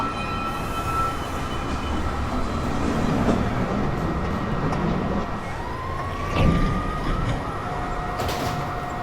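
A downtown local 1 subway train approaches 207 St station, a loud steady rumble of wheels on rail with rising metallic squeals and a high tonal whine as it draws in.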